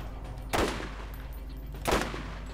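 Two sharp, loud sniper rifle shots ring out in Borderlands about a second and a half apart, each with a short echoing tail over a low background hum.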